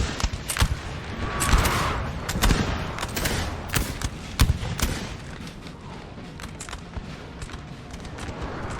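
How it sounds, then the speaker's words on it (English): Napoleon Total War battle with artillery pounding massed infantry: repeated sharp booms and cracks of cannon and musket fire at irregular intervals over a steady roar of battle noise, some shots loud and close, others farther off. "Just absolutely destroying some of Ney's corps. Nice artillery shots."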